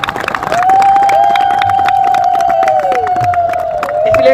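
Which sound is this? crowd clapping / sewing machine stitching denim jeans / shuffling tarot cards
crowd clapping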